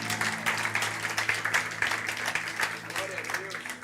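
A church congregation applauds through the clip, a continuous patter of clapping with a steady hum running underneath.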